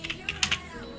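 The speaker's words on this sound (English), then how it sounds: "If you guys can hear my keyboard and that, I do apologize" Computer keyboard keys clatter in a few quick, uneven taps close to a microphone, soft and brief, with faint speech in the background.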